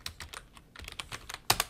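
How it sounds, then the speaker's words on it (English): Fingers type a search into the Windows Start menu on a computer keyboard: a quick, close run of a dozen or so crisp key clicks in an uneven rhythm, ending with a louder double tap, with no voices. "you can go into the Start menu and just type Task Manager"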